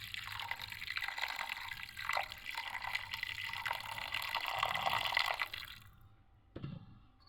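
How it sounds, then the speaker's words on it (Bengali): Water is poured into beef for cooking biryani, a steady near trickle and splash lasting several seconds before it stops, followed by a brief dull clunk. "এবং মাংসটা রান্না করার জন্য আমি দিয়ে দিচ্ছি পরিমাণ মতো পানি।"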